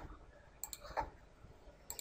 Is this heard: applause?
no